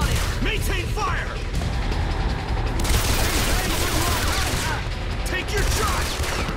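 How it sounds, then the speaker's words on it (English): Gunfire in the Wolverine X-Men Origins action game: steady rattling automatic fire and scattered impacts fill the stretch, while voices shout over the battle. "I need suppressing fire."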